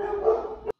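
A dog gives a single short bark or yip, fairly faint and brief, ending abruptly.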